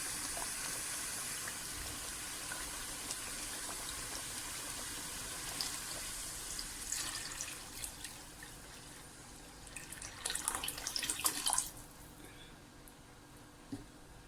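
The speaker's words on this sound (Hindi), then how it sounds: "ये देखिए मैंने तकरीबन आधा भगोना भर दिया है पानी का।" Water poured from a tap into a large cooking pot for nihari, filling it about halfway; a steady broad hiss of running liquid with brighter splashing bursts toward the end, close and fairly quiet.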